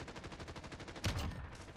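A single sharp sniper rifle shot cracks out in a Modern Warfare video game, loud and close, standing out against a dense background of game sound, with no talking.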